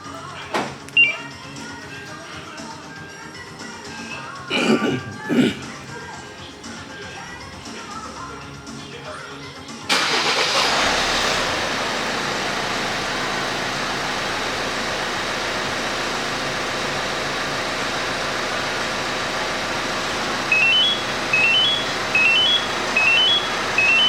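Car fitted with an aftermarket alarm starts remotely from the alarm's key fob: a few clicks and taps, then the engine catches and settles into a steady idle, with faint chirping beeps near the end.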